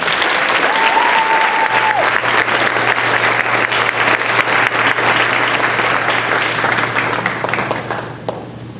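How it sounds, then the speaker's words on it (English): Sustained applause fills a graduation ceremony hall, a dense steady clapping crowd that stays loud throughout before tapering slightly at the end, with a brief whistle-like tone early on. "Let's give a round of applause for Elliot."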